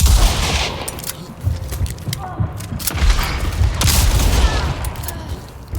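Gunfire in the Hunt video game, with pistol shots among it: a run of sharp booming reports and thuds spaced irregularly across several seconds, loud and close, with some mechanical clatter between them.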